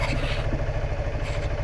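A Honda motorcycle engine idles in a steady, low, close-up chugging rhythm throughout the short stretch.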